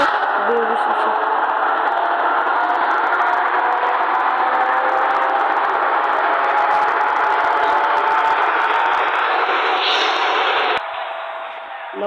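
Toy-style train V-80 departs with a sustained, loud whirring rumble that holds steady for about eleven seconds, a brief whistle-like tone near the end, then drops off abruptly.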